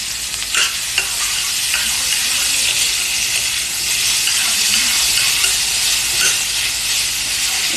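Carrot and tomato cook in a pan for hemp noodle chowmein, giving a steady close sizzle and hiss with occasional stirring scrapes throughout, no voices.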